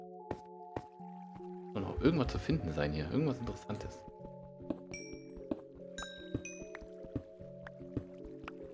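Minecraft Pocket Edition water flowing, soft dripping and squishy liquid sounds with scattered clicks and tones, heard under a German-speaking player's voice throughout.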